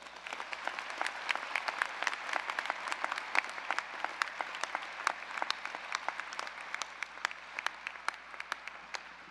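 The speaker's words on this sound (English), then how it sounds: "A big round of applause" Graduation audience applauds the NSU orchestra, a sustained wash of many hands clapping in a large hall, fairly distant and even, with crisp individual claps standing out.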